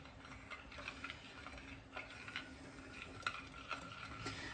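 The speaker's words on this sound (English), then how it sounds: "now I'm going to stir it until the milk is dissolved" Stirring milk into a hot coffee and lye solution for soap, a faint series of soft clicks and scrapes in an uneven rhythm, quiet and close.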